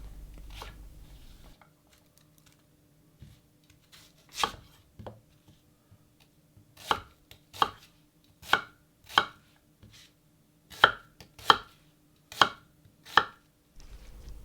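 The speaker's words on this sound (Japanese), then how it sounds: "ミルポのサイズだいたい2センチ角に野菜は切っていきます" A knife chops vegetables into 2 cm mirepoix cubes on a cutting board for beef bourguignon, with about a dozen sharp, close knocks, sparse at first and then in a steady rhythm, with no talking.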